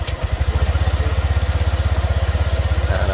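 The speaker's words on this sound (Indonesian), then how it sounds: "motornya kita hidupkan." A Honda Vario 125 scooter engine starts and settles into a steady, fast, rhythmic idle, loud and close, with no talking.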